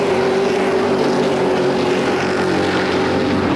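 Late model stock cars race around the oval at Peterborough Speedway, their engines blending into a loud, continuous roar with no break or voices over it.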